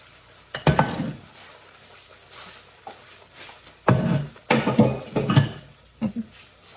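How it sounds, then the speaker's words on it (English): Beans being poured into a cooking pot, giving several bursts of clattering, splashing sound separated by short pauses, fairly close and moderately loud with no voices. "what I'm going to do now is to pour the beans into the pot"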